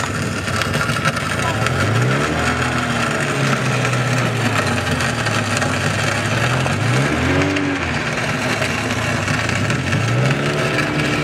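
A loud, steady engine rumble runs throughout, rising and falling in pitch a few times, with voices speaking over it.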